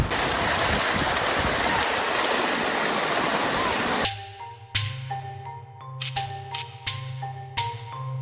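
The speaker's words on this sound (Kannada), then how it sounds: "ನೀರು ಸಖತ್ ಫೋರ್ಸಾಗಿ ಫ್ಲೋ ಆಗ್ತಾ ಇದೆ" Water rushes forcefully beside a lake at a temple in Halenijagal, Karnataka, in a loud, continuous roar for several seconds, then cuts off abruptly into a series of clear chiming tones.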